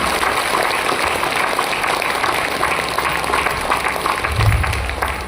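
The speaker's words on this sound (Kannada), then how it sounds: "ಜೋರಾಗಿ ಚಪ್ಪಾಳೆ ತಟ್ಟಿ ನೋಡೋಣ" A large audience at a women's day cultural celebration claps loudly and continuously for award-winning young dancers, a dense steady wash of applause filling the hall with no pauses.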